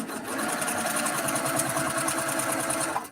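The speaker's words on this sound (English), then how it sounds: "I'm going to sew on the line, and then" A sewing machine chain-pieces quilt fabric along a marked line, a fast, even mechanical stitching rattle running for about three seconds close by before stopping; no speech.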